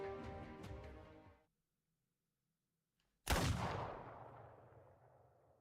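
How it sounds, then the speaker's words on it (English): A single sharp, loud gunshot from the Arknights video game, with a long fading tail, heard after a sustained tone ends and a brief silence. "It's the gunshot! The gunshot!"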